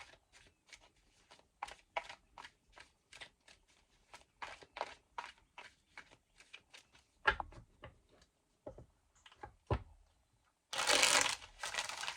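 Tarot cards being riffled and shuffled in a steady run of quick crisp flutters, a few sharp slaps, then a loud burst of bridging cards at the end.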